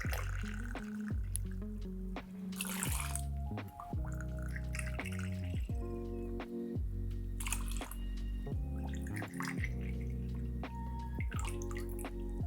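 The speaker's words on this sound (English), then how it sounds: "So we have our apple juice here. We're gonna do a few ounces of this." Apple juice pouring and dripping into a container for a fall mocktail, a close, quiet trickle broken into a series of distinct drips and short pours.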